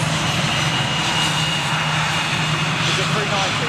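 An Austrian Airlines Airbus A318 jet with CFM56 engines at London Gatwick, a steady broadband engine roar at moderate distance throughout, with people talking over it.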